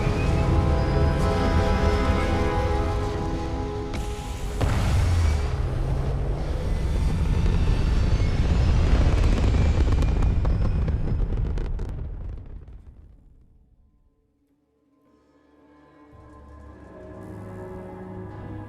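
Spaceship engine roaring during takeoff in the video game Starfield, a long loud rumbling thrust with rising and falling tones that fades to near silence before a softer hum returns.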